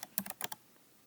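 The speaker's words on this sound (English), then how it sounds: "I'm going to type in probiotics here" Quiet computer keyboard typing, a quick burst of five or six light clicks close by, then fading into faint room hiss.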